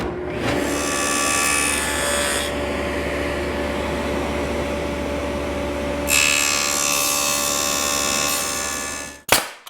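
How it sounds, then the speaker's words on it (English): Table saw fitted with a dado blade set plowing out material, a steady close machine hum with two stretches of louder cutting rasp, ending in a sharp clunk. "I have my dado set up. I'll just plow out the material."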